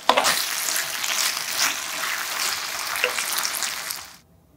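Rice cake slices and sausage stir-fried in a pan, a loud continuous sizzle with scraping and stirring strokes that cuts off abruptly at the end.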